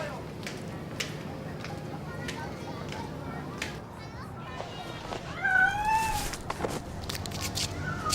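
A cat meows twice in a drawn-out, rising and falling call partway through, heard in a room with steady background noise, people speaking and soft clatter.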